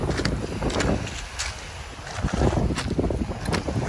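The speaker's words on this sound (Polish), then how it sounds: "Wymiękła, za bardzo wieje." Strong wind buffets the microphone on a beach walk in Rhodes, Greece, a loud continuous rumbling roar with gusty surges and no clear voices.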